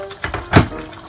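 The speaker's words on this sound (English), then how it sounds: "add a little water to it" Water is poured into a teaspoon of gram flour for a Navratan korma, giving a short close liquid splash with a brief trickle beforehand, heard alone.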